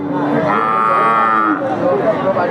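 A loud, close cow moo drawn out over a couple of seconds, with faint crowd chatter behind it, at a livestock market.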